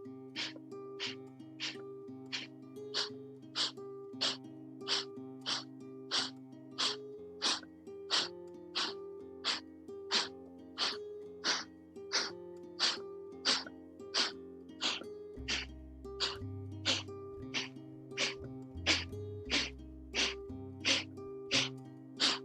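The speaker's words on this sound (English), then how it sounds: "And sharp, quick exhales." Sharp, forceful exhales from yoga breath work repeat in a steady, quick rhythm, each a short breathy puff close to the microphone over a sustained musical drone in the background.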